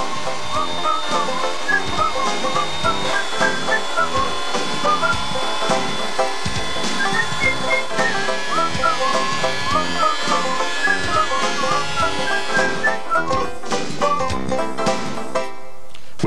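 A wood planer runs continuously, planing lumber stock down to thickness with a loud, steady high-pitched whine and hiss, feeding through with rhythmic chattering throughout.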